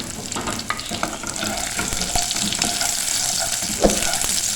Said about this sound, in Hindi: और इसको 5 मिनट तक फ्राई करेंगे